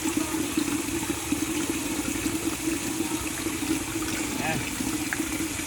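A faucet runs steadily into a hydroponic nutrient solution while mixing lettuce-growing nutrients, producing a constant watery hiss and trickle, with a person speaking briefly over it.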